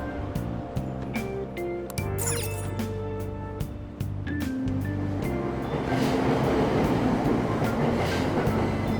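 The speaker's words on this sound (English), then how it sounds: "Train doors are now closing." A subway train pulls away from a station platform in the video game Persona 5 Royal, with a chime and tonal motor whine giving way to a rising, rumbling roll of wheels on track, loud and close.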